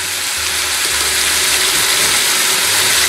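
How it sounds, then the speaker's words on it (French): Garlic is grated on a grater while making a curried courgette soup, giving a loud, steady, rasping scrape that runs continuously and close without pauses or voices. "Moi, je préfère le râper."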